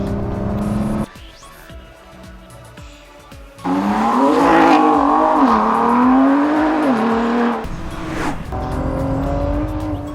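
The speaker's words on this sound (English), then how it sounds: "after just a couple of sighting laps in the GT, Ford's Le Mans ace, Stefan Mucker," Ford GT sports car lapping a race track, its engine loud and close with rising and falling revs, a brief quieter stretch, then hard acceleration and a tyre squeal before another pass.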